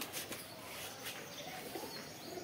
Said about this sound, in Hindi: तीन उड़ गए हैं भाई,